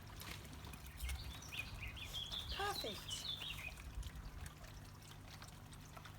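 Water splashes and trickles steadily beside sedge grass being planted, a close, continuous wash of droplets with faint bird chirps and one brief spoken word.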